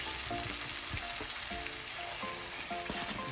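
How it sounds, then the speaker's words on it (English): Vegetables and fresh spinach frying in a pan, a steady dense sizzle with soft crackles and occasional stirring knocks, close and continuous with no talking. "now that the vegetables have cooked down a little bit, I am now going to add in some spinach"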